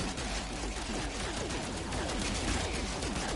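Weapon fire in the space game No Man's Sky, dense rapid shots packed into a loud, continuous crackling barrage with no pauses.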